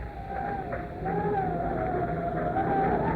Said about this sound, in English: It's the sound of that wind through the trees